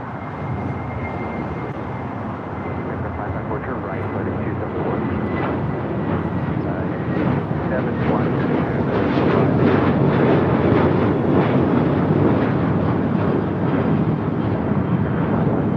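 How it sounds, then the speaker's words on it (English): A Boeing 737-800 takes off from LAX, its jet roar building steadily from a distant rumble to a loud, broad thunder that holds near the end, with faint wind buffeting. "Airlines 8510 taking off to Bullhead City on the 737-800."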